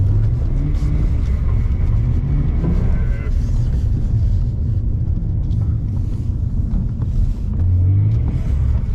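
BMW Z4 engine droning and revving during a drift with a Scandinavian flick, a steady close rumble heard from inside the car while people talk.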